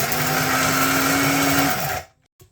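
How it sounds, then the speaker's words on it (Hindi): Blender grinding chickpeas for a healthy shake, a loud close motor whir that runs steadily and then cuts off abruptly near the end, leaving a brief silence and a faint clatter. "चनों को पीस लेंगे।"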